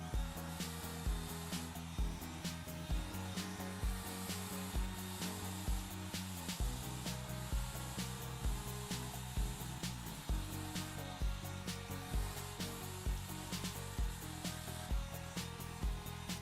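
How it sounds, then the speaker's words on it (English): A handheld blow dryer runs steadily at close range while being used to blow out natural hair over a brush, with a broadband whoosh that holds throughout and slight rhythmic shifts as it is rocked. "then you put the blow dryer behind the brush like this and you rock it out"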